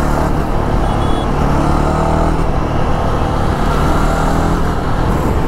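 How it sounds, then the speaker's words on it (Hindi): A motorcycle engine drones loud and close in road traffic, a continuous rumbling roar with slight rises in pitch as it moves past among other vehicle noise. "आवाज़ सुन रहे हो गाइस, आवाज़ सुन रहे हो बाइक की।"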